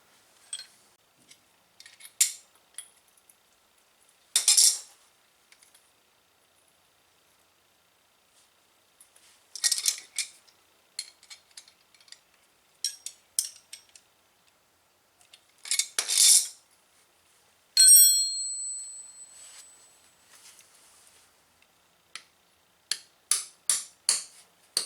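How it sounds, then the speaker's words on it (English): Metal parts being hammered into the holes of a Harbor Freight manual tire changer, sharp metallic strikes in scattered bursts with long quiet gaps, some in quick clusters, close and fairly loud. "You have to hammer them in."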